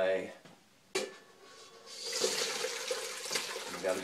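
Beef bone stock poured through a wire mesh strainer, a steady rushing splash of liquid that builds after a sharp clink and runs on loud and close, with faint metallic knocks.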